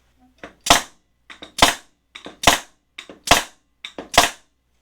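A 2-in-1 nailer fires a 1.25 inch nail into rosewood: five sharp, loud pneumatic shots about a second apart, each preceded by small clicks of the trigger or tool, with nothing else heard.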